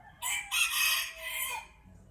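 A large mestizo rooster crows once up close, a loud, bright, drawn-out call in two rising bursts that tapers off after about a second and a half.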